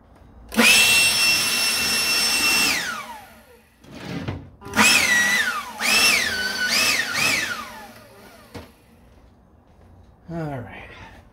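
Compressed air blown over a part of a 1969 Corvette during oil pan gasket work, several loud hissing bursts of varying length with short gaps between them, followed by brief talking at the end.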